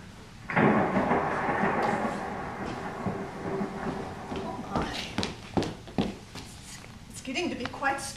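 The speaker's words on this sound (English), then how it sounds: "Getting to be quite stormy outside." A long rumble of thunder rolls in and fades, followed by scattered thumps and people talking.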